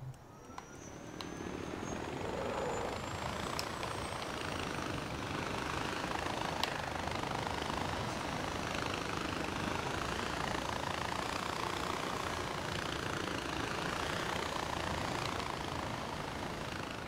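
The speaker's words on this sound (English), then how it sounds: "We're definitely taking this. Hadn't seen a chopper in a while." A Far Cry 4 helicopter engine runs steadily in a continuous, close whirring drone with a whining rotor tone that holds for the whole stretch without speech.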